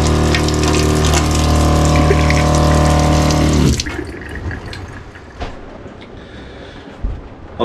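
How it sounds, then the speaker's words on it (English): A Seaflow RV water pump runs with a loud steady hum and rushing water for several seconds, then cuts off, leaving quiet room tone with faint knocks. "Just wanted to show you, you know, what that Seaflow water pump looks like, how it works."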